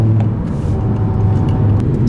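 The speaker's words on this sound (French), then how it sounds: "Superbe cette petite McLaren." A McLaren sports car passes on a road, its engine a steady loud rumble with no clear rise or fall, close by and without talk.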